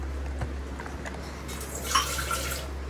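Water is poured into a pressure cooker for rice on a gas stove, a brief splashing gush rising near the end over a steady low hum, with no one speaking.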